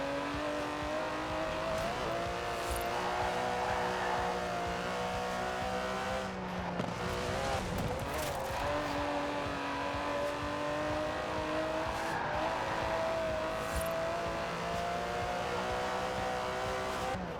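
Twin-turbo 5.2-litre V12 of an Aston Martin DB11 in Forza Horizon 4 roars steadily with sustained high revs, shifting pitch and a brief dip mid-run, loud and continuous throughout with no talk.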